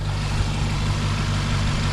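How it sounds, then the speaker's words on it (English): A 2020 Porsche Panamera GTS with its 4-liter twin-turbo V8 idles steadily, a dense low rumble with even harmonic throb and no revving, heard close and alone. "But it's a 4-liter V8 twin turbo"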